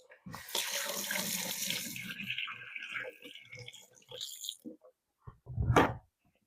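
Kitchen faucet water runs into a sink as hands are washed, a loud splashing stream that stops and starts again near the end, with a few soft clunks and brief speech.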